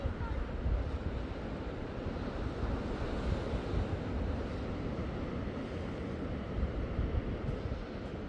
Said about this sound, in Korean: 오늘은 파도가 좀 있네요.